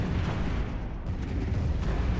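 Tachyon lances firing on a hostile fleet in the space strategy game Stellaris: a dense, continuous low rumble of heavy booming fire, loud and steady throughout with no talking.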